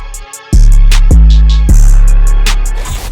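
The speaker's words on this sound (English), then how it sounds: "So then I just layered it with this other brass from Expand," Layered synth brass samples from the Expand plugin, stacked into a dramatic trap-style chord part, land as loud sustained swells in about four punchy hits, each ringing out until the next, with no voices.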